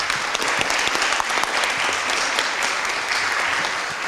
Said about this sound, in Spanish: Pido un aplauso para los participantes